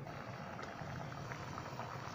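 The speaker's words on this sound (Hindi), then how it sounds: "ग्रेवी में हमारे बहुत अच्छे से उबाल आ चुका है।" Shahi paneer gravy bubbling under a lid in a covered pan, a steady, dense hiss and simmer that holds even and unbroken throughout.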